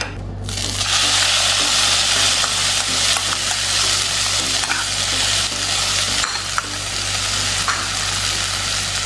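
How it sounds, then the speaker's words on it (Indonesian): A steady, loud sizzle of urap spice paste frying in a hot wok over low heat, with occasional scraping stirs and clinks throughout. "Sekarang kita panaskan bumbu urapnya di wajan."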